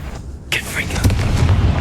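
A Confringo fire spell going off in the video game Hogwarts Legacy, with a sudden burst and then a low, rumbling explosion that rolls on to the end, partly overlapped by a character's voice.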